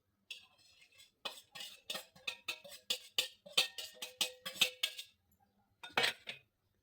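Chopped chicken and onion tumble into a metal pot for chicken soup, a rapid series of sharp clinks and clatters from the pieces and utensil, close and fairly quiet, ending with a final scrape.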